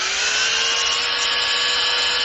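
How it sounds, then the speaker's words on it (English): A power sander runs on a wooden piece, a constant close whining buzz with an even grinding rasp and no breaks, heard alone. "It's not going to come out unless I stop it, and actually hit it with the sander."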